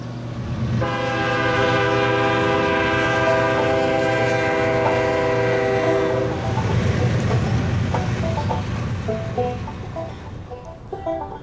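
A loud train horn blares in a long sustained chord, then the heavy rumble and clatter of the passing train takes over and gradually fades, in a small town in the Crow Creek Valley, Tennessee.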